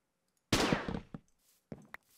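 Mana Blaster from the Botania mod fires in a Minecraft modpack: one loud, near burst that tails off over about half a second, then two shorter, quieter blasts a moment later.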